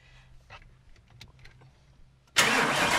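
A car starting and flooding during a driving lesson: weak, uneven cranking and faint clicks, then the engine bursts into a loud, rough roar close by.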